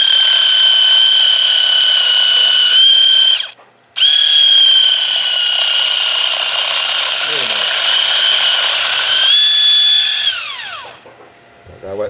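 A Micro-Make 3D Contour Sander works the edge of a roughed-out wooden bowl, giving a loud, steady high-pitched motor whine that cuts out briefly, resumes, then winds down near the end.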